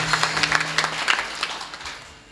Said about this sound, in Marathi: आमच्या बाबा करता टाळी वाजूया मस्त.